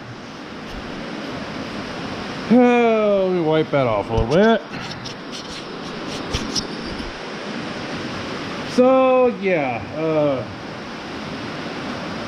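Pouring rain outdoors makes a loud, steady hiss that runs throughout, with someone talking over it in two stretches.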